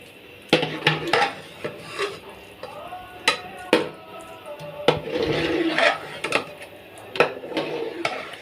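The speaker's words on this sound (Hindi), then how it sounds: "और इसको अच्छी तरह मिक्स कर देंगे मलाई को" A spoon scrapes and clinks against a metal pot while cream (malai) is stirred into a rice kheer. Sharp taps and knocks come at irregular intervals between softer rubbing swirls, close and moderately loud.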